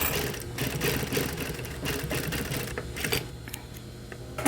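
Sewing machine stitching the waist of a garment being taken in, a steady mechanical whirr running throughout at close range with slight shifts in speed.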